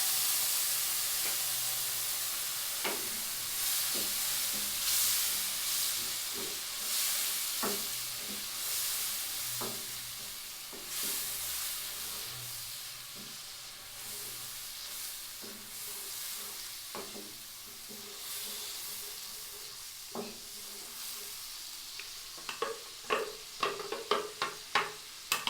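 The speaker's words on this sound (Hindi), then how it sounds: "इसमें भी पहले भुनेगी इसको।" Green chili, ginger and garlic paste fries in a pan for kofta curry, giving a steady close sizzle broken by scattered stirring clicks and scrapes that grow sharper and more frequent toward the end, with no talking.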